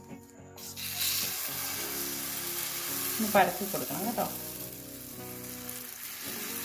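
Vegetable batter spread in hot oil in a pan, a continuous close sizzle with scraping and spreading noises from a utensil in the middle, while someone talks briefly.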